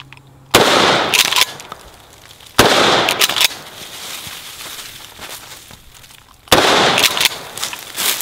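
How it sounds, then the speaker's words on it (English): A shotgun firing three loud, close shots, each a sharp blast with a ringing decay, separated by irregular pauses of about two and four seconds. "The great thing about this shotgun is you can do all kinds of things with it, like open Coke cans."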